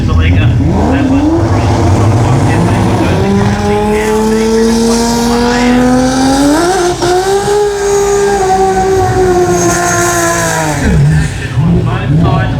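A Gas Racing BMW and Toyota Celica race car scream side by side on the track at the 2024 Garrett Brisbane Jamboree, engines rising and holding high revs amid squealing tires, loud and close, with commentary running over them.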